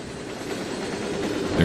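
Train trucks clack over rail joints in the railway simulation game Trainz 2019, a steady rolling rumble with faint rhythmic clicks, brief and continuous.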